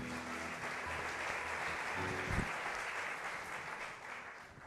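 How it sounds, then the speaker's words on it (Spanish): Conference audience at a federation congress in Madrid breaking into sustained applause, a full, even clatter of many hands that eases slightly toward the end, with no talking over it. "Un fuerte aplauso, por favor."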